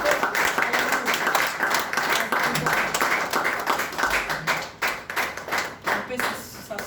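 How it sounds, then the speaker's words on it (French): A church congregation claps for Jesus, a loud, close burst of many hands clapping that thins into irregular, separate claps toward the end, with some voices mixed in. "Est-ce qu'on peut acclamer pour Jésus?"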